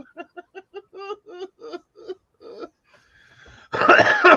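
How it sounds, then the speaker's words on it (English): A string of short voiced throat sounds like chuckling, then a brief pause before one loud, harsh cough up close. "Elbow cough."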